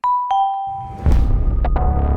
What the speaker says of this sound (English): Are you guys hearing the doorbell?